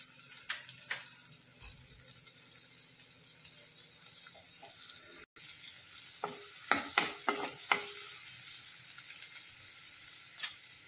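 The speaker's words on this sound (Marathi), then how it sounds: "हे आपल्याला छान भाजून घ्यायचं आहे थोड्या वेळ" Carrot, peas, curry leaves, garlic and onion roasting in a pan give a steady low sizzle. Several sharp scraping stirs cluster near the end, and no one speaks.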